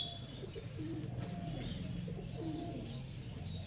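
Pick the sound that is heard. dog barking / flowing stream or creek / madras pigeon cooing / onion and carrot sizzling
madras pigeon cooing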